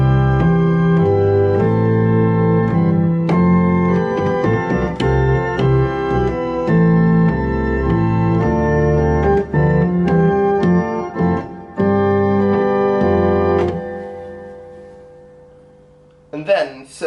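A church organ plays the opening two phrases of the hymn tune Abbot's Leigh, full sustained chords with a deep bass, loud and steady throughout before the last chord releases and fades, with a brief burst of sound at the very end.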